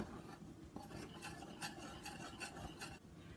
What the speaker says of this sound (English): Give that a quick whisk until it's well incorporated.